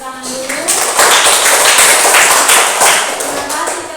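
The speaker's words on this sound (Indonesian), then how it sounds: "Kali ini kita tepuk tangan dulu." Loud classroom applause for a student group, dense and continuous clapping close by, with voices mixed in at the start.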